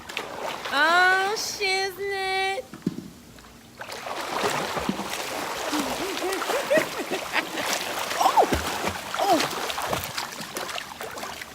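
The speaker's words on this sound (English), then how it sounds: "she's splashing all over, splashing water all over me" A child splashes water in a pool on a warm day, choppy wet splashes and sloshing running continuously at close range, with a voice and adult talk heard over them.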